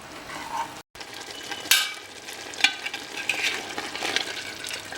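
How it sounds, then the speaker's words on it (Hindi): Mutton fried with masala and stirred in a pan, a moderate sizzle broken by repeated scraping strokes and sharp utensil knocks, with a brief cutout near the start. "इस मसाले को इसमें मिलाएंगे और बढ़िया भून लेंगे मीट को।"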